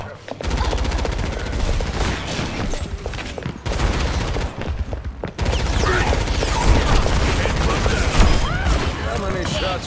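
Rapid gunshots from Overwatch 2 ring out in dense, repeated volleys over nearly ten seconds, broken by two brief pauses, loud and close, with game voices and effects mixed in underneath.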